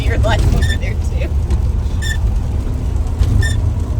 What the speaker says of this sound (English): The windshield wiper has fallen off, and that's what's scraping right now.